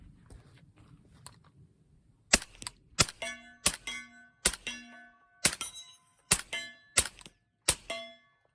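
Eight sharp suppressed rifle shots fire through a StingerWorx Hunter suppressor, evenly spaced about a second apart, each a crisp crack followed by a short metallic ring, with quiet pauses between.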